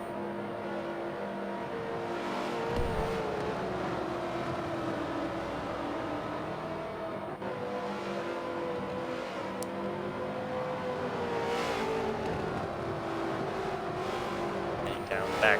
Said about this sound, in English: Official NASCAR truck, pace truck.